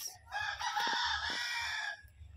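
A rooster crows once, a long drawn-out call close by, with soft clucking from chickens before and after.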